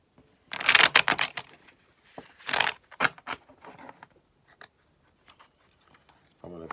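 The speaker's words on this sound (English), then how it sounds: "We're going to go ahead and give a good shuffle." A deck of Night Sun Tarot cards being shuffled up close, with two strong riffling bursts followed by softer taps and flicks, spaced by short pauses.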